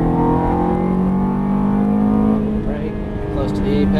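A Ferrari F430 accelerates on a race track, its engine drone rising steadily and loud from inside the car, while an instructor talks over it almost the whole time.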